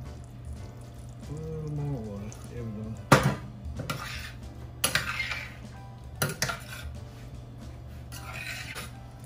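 Potato pieces go into a pot of stew beef, making scattered clinks, scrapes and soft clatters of a utensil against the pot with occasional louder knocks, fairly faint and close, over a low steady kitchen hum.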